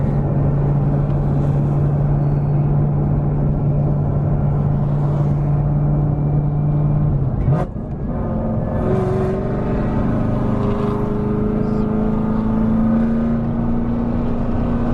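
A 1000-horsepower Camaro ZL1 with a manual gearbox drives along with a loud, steady engine drone heard from inside the car, a brief shift break midway, then the rumble resuming on a new pitch.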